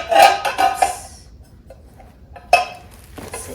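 New saucepans from a cookware set are handled and set down, giving several sharp metallic clanks and rattles in two clusters separated by a quiet gap. A voice speaks briefly.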